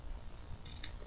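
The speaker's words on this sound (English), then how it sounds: "get our scissors, and let's see, we'll just cut" Scissors snipping through cotton wick, a quick close pair of crisp cuts within about a second, quiet and alone.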